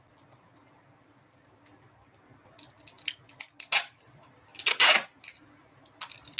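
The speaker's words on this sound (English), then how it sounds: "So right now we're just gonna tape the labels" Tape being pulled and pressed onto labels: faint ticks and small scrapes at first, then louder ripping and crinkling bursts of tape in the second half, close to the microphone, with no talking.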